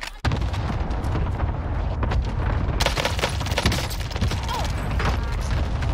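Gunfire in a multiplayer shooter game during sniping play comes as a dense, continuous barrage of loud booms and cracks, with rapid shots layered over each other throughout.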